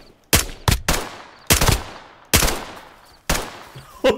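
Gunfire in the Roblox game Aftermath: five loud, close shots or short bursts, each cracking sharply and ringing out in a decaying tail before the next, spaced roughly a second apart.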